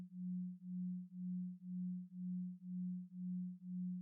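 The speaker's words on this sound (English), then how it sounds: "with the binaural tones" A steady low hum pulses in eight even, evenly spaced swells, like a soft droning tone throbbing at a slow, regular rhythm with nothing else around it, quiet and continuous.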